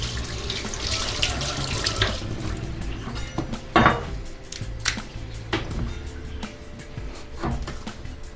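Eggplant being rinsed under a running kitchen tap, with a steady splash of water broken by occasional clinks and thumps from handling the vegetable in the sink.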